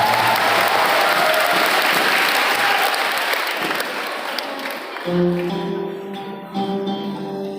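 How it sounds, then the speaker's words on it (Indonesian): Loud, dense applause from a large crowd of Islamic boarding school students at a motivational talk in a pesantren hall, sustained for several seconds before thinning out as a voice and music begin over it. "Boleh tepuk tangan buat rekan kita yang sudah bicara."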